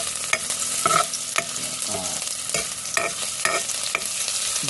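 Ginger sautéing in a pan for lugaw gives a continuous close sizzle, broken by repeated scraping stirs of a utensil against the pan, with no talking.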